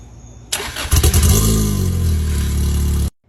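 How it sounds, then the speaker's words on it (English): A Lotus Elise engine with a new exhaust cranks briefly after months unused, then catches and roars to life, revving loudly before settling into a steady idle, then cutting off abruptly. "for the first time in several months, we got to crank it over"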